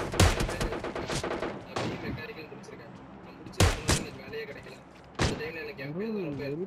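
Gunfire in a PUBG match sounds as sharp bursts and single loud shots, with players talking over the shooting throughout.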